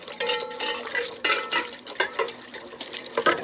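A whisk stirs a homemade deodorant mixture in a pot over heat, rapid repeated scraping and clinking strokes against the metal, close and steady with no talking.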